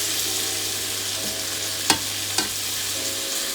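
Chicken pieces for sesame chicken fry in a pan with an even, close hiss, interrupted by two sharp knocks of a utensil near the middle; nobody speaks.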